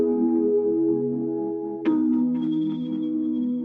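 Instrumental music with a channel EQ cut applied, a sustained harmonic bed that turns thinner after a brief accent near the midpoint, with a faint high ringing tone continuing over it, steady and fairly loud, no voices.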